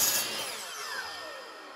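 A power saw cutting a scrap piece of wood trim during a small bathroom remodel: one short, close, whining cut that trails off, with no voices.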